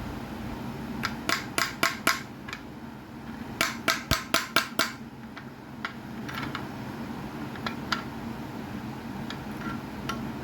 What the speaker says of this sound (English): I'm probably gonna use a little bit of hammer here